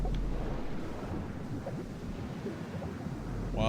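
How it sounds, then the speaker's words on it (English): Turbulent sea water in Final Fantasy X-2 (HD Remaster) gives a steady low rushing roar, like waves and wind. It holds at an even level throughout, with no talk over it. "There's some pretty big turbulence in the water."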